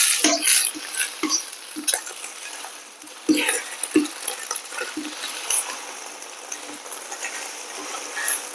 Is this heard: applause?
no